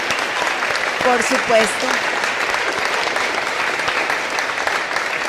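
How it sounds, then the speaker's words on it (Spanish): A studio audience on a talk show breaks into sustained applause, steady and fairly close, while a voice speaks briefly over it. "los vamos a recibir con un fuerte aplauso"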